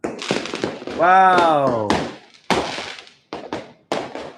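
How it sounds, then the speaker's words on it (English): Fireworks and firecrackers burst during New Year celebrations in Bali: a string of sharp, loud explosive cracks at irregular intervals, with an excited voice exclaiming over a rising whistle-like tone in the middle. "This is Bali. Fireworks. Everybody hear that?"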